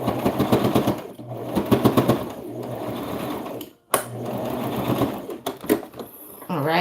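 Sewing machine stitching a satin reversible bonnet closed, a fast steady mechanical rattle in bursts with brief pauses, close and loud, with some talk alongside.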